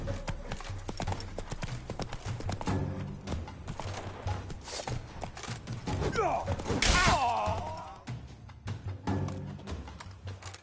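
A horse gallops in The Witcher 3: Blood and Wine, with rapid rhythmic hoofbeats thudding steadily throughout alongside game sound effects, including a brief whinny-like swell near the middle.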